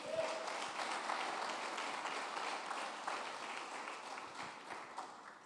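A congregation at a church sermon claps together in steady, moderately distant applause that carries on throughout without fading out.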